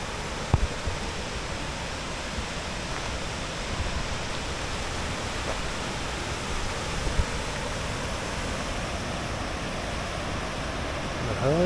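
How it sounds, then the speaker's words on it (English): A waterfall roars as a steady, dense wash of broadband noise that holds evenly throughout without pause, with a few faint knocks and a brief sound near the end. "what a cool waterfall."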